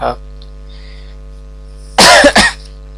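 A single short, loud cough bursts out about two seconds in, close to the microphone, after a near-silent pause with a faint low hum.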